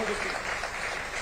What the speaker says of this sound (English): I think you deserve a huge round of applause again